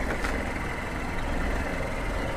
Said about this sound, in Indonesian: Mesin halus banget.